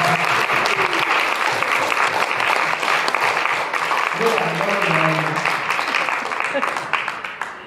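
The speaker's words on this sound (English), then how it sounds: "So I want you this opportunity to give her applause" An audience applauds for Dr. Heidi Evans at a surprise retirement luncheon, a steady dense wash of many hands clapping that fills the room, with a few voices murmuring underneath before it tapers off at the end.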